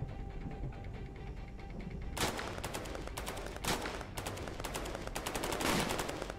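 Sustained bombardment gunfire in the Cepheus Protocol strategy game, rumbling low ambience giving way to dense repeated volleys of shots and blasts from about two seconds in, with sharp loud bursts near 2.2 and 3.7 seconds and no talk.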